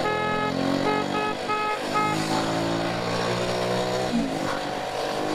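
A car overtakes on a highway with a loud, sustained engine drone and a rising and falling whoosh of passing traffic, heard from close by inside the moving vehicle and with no talking.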